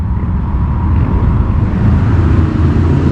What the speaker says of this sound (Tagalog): Yan, nagka-traffic na tuloy oh.